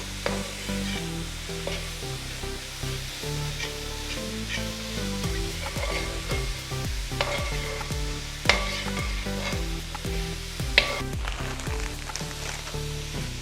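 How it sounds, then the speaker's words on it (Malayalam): Half a kilo of cut long beans, stirred and fried with masala, keeps up a dense, constant sizzle under rhythmic scraping strokes of a spoon against the pan, loud and close, with no talking. "നമുക്കിതിലേക്ക് 1/2 കിലോ അച്ചിങ്ങ കട്ട് ചെയ്ത് വെച്ചിരിക്കുന്നത് ചേർത്ത് കൊടുക്കാം. ഇത് നമുക്ക് മസാലയുമായി ഒന്ന് നന്നായിട്ടൊന്ന് മിക്സ് ചെയ്യാം."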